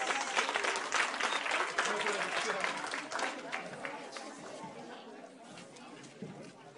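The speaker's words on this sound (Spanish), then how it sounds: "quiero pedir un fuerte aplauso otra vez para estos excelentes actores" Audience applause for actors and production crew at a youth arts and culture festival in Anamoros, loud clapping mixed with crowd chatter and cheering, tapering off slowly over several seconds.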